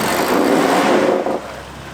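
Off-road vehicle engine revving as it climbs over rocks on an Uwharrie trail, a loud close rev that holds and then drops off briefly, with no talk.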